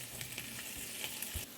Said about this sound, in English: you might hear the sizzle in the background